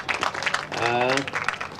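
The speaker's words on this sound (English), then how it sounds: "give them a big round of applause" Audience applause at a school career fair, a dense crowd of clapping hands lasting under two seconds, with a voice calling out over it in the middle.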